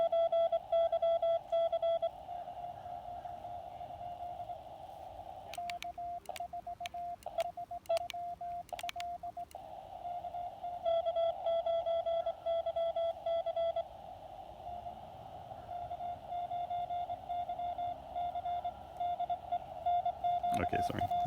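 Amateur radio signals on a crowded band through a lab599 Discovery TX 500 portable transceiver: a steady tone with bursts of overlapping keyed signals and brief beeps, continuous and fairly close, with no one talking.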